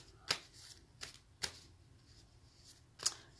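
Cards for a reading are shuffled in a few quick, crisp riffles spaced about a second apart, faint and close, with no voices.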